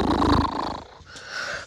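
A puppy gives a short, low rumbling growl close to the microphone, heard alone and fading after about a second.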